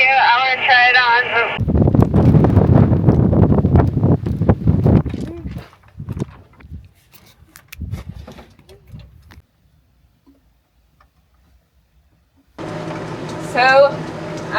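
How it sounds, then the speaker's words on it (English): Heavy wind buffeting roars across the microphone in loud low-frequency gusts, dropping to near quiet before voices return briefly at the start and end. "That is quite windy today."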